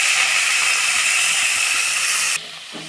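Drumstick leaves frying in a pan with browned onions and being stirred, giving a loud, steady sizzling hiss with soft scraping knocks beneath that drops off sharply near the end.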